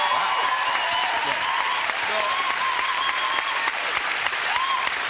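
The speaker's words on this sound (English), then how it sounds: "honestly, you should clap it, because he is a genius." Studio audience at a television chat show breaks into loud, sustained applause, dense clapping filling the room while a voice talks faintly underneath.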